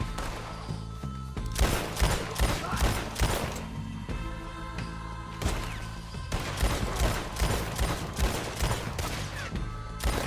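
Dense gunfire in the Western video game Red Dead Redemption 2 during a raid on raiders by some huts, rapid overlapping shots and bursts filling the whole stretch, loud and continuous with game music and effects underneath.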